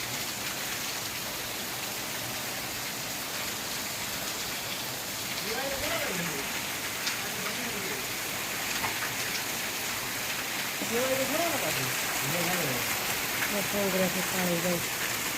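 Heavy rain pours in Junagadh, a steady broadband hiss filling the whole stretch, with a few faint voices talking over it midway and near the end.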